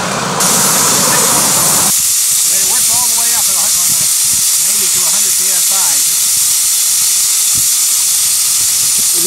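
Heisler geared steam locomotive at a train farm, running around 100 psi, hissing steam loudly and continuously throughout, with someone talking over the steady roar.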